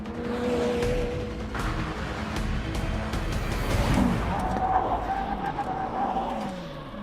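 A McLaren braking hard from 100 mph alongside a Jaguar F-Type, heard as loud, close engine and road roar with tyre noise, then a rising whine and squeal as the car slows over several seconds.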